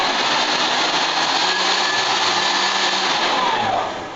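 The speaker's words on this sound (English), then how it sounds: "there is a vacuum cleaner inside" A vacuum cleaner motor inside a competition hovercraft drones steadily at close range, a loud broadband whir that holds constant and then tapers slightly at the end.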